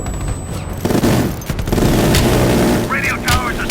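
Bomb strike explosions in the video game Call of Duty Black Ops Cold War land as heavy booms and cracking blasts with rumbling debris, loud and close, while voices talk over them.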